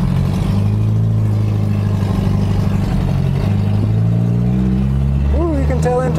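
A 1960 Mercedes-Benz 190B engine running on its first start in 50 years, a loud steady low idle with mechanical clatter; a voice speaks briefly over it near the end.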